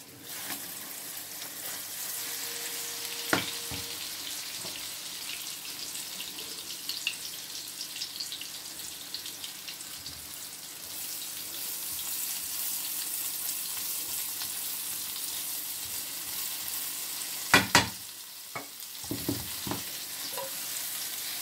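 An omelette fries in a pan over a gas flame, giving a steady soft sizzle throughout, with a few sharp clinks and scrapes near the end.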